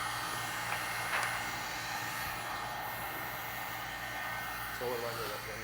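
A heat gun blows steadily while warming protective film on a car windshield during removal, a constant airy roar with a low hum, close and continuous, with faint talk in the background.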